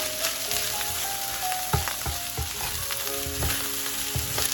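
Shrimp and egg fried rice stir-fries in a wok with a dense, crackling sizzle, punctuated by scraping and clanking of a spatula against the metal, steady and close without any talking.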